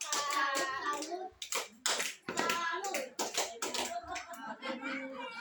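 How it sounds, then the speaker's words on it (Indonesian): A classroom or community group at a P2K2 session claps a rhythmic salute on a count of three, sharp hand claps mixed with speech and voices chanting along. "kita kasih tepuk salut untuk Ibu Rosi"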